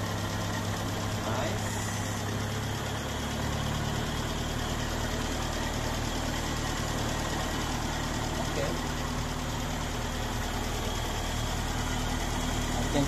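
A Land Rover engine idles on its very first start, a steady rumbling drone with a slightly uneven knock, running continuously and close by while the throttle is adjusted.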